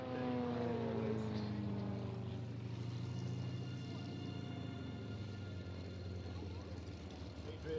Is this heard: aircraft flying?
yes